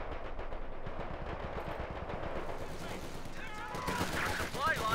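Battlefield gunfire in the World War II strategy game Company of Heroes 2, dense rapid machine-gun bursts and volleys crackling steadily, with voices calling out over the shooting.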